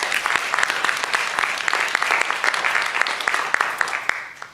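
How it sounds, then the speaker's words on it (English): A conference audience applauds at an urban economics research conference, producing a dense, loud, continuous patter of many hands that keeps going for several seconds before tapering off slightly at the end. "Yes, round of applause."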